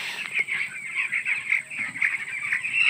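A crowd of chickens, hens and roosters together, clucks and calls steadily inside a poultry farm shed, a dense continuous chorus of overlapping bird voices close by.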